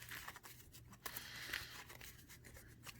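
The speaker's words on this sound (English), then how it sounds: "now let's just shuffle the deck a little bit" Yu-Gi-Oh! cards being shuffled by hand, a quiet, continuous papery riffling and crinkling with sharper brief snaps, close by and alone.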